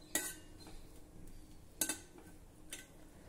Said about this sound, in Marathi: आता तुपावर जरा हे पिस्त्याचे काप आपण थोडे परतून घेऊ।